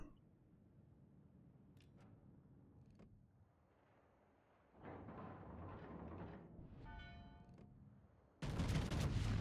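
The battleship Montana fires main-gun volleys in the World of Warships naval game: after a quiet stretch, a heavy rumbling broadside swells, then a second, louder and abrupt volley bursts in close.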